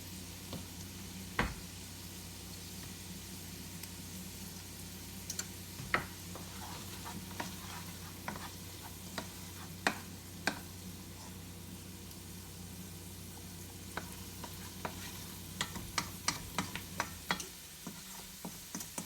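Onions soften and fry in a pan with a quiet, continuous sizzle, broken by scattered clicks and taps of stirring; no voices, fairly faint and close.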